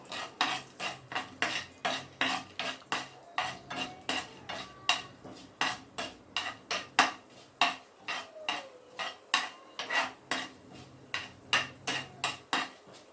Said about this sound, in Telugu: ఇవి కొంచెం వేగాలి నూనెలో